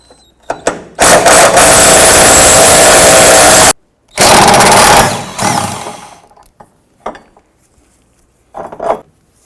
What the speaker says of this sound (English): Using a 13mm socket and impact gun, you can go ahead and remove this bolt